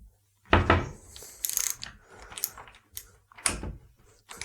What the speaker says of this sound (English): Take your socket wrench and break up the bolt.